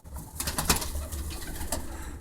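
Bronx tippler pigeons cooing while feeding, a steady close mix of soft coos, shuffling and faint wing flutters that runs throughout without speech.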